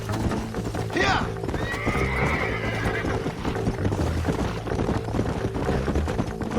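Horses in the Red Dead Redemption video game neigh and whinny over a continuous rumble of hooves and a busy background score, with one sharp whinny early on.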